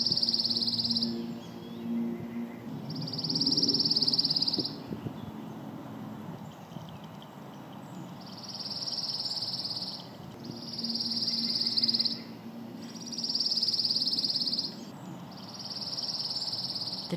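Pine warbler singing among pine trees, a loud, pleasant, even trill repeated in several bursts of a second or two, with a faint lower murmur of other birds and frogs beneath.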